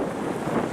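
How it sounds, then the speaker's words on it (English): Strong, cold winter wind gusting across the open expanse of a huge lake at Pictured Rocks, Michigan, a steady broadband rush buffeting the microphone with no voices. "that wind is extremely cold in the face"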